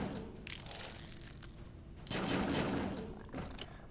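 Quiet bursts of gunfire from the video game Fallout Shelter sound in short volleys, with a stronger cluster of shots midway and faint crackling between them.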